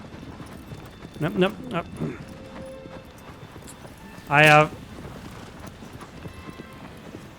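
A horse in the video game Shadow of the Colossus, with a few soft hoof clops under a man's speech and a short, loud horse cry standing out midway.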